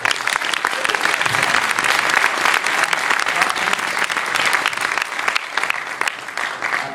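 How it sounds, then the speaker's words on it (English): An audience at a film Q&A breaks into applause after praise for a performance, full sustained clapping at close range with faint voices mixed in. "One round of applause for this."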